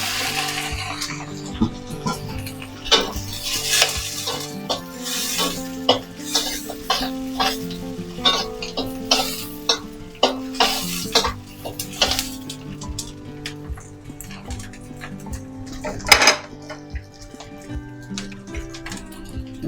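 Dried loitta fish frying in a pan with browned onions and garlic, a continuous close sizzle punctuated by frequent scraping stirs and light metallic clinks of a spatula against the pan, with no voice.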